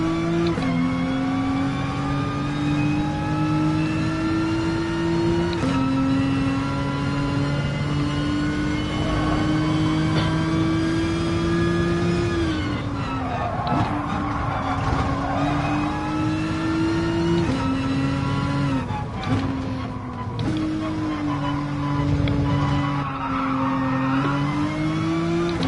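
Race car engine in the Gran Turismo Sport video game, a loud steady drone climbing through gears with sudden shifts and drops, brief tire squeal and scrubbing in the corners, no voices.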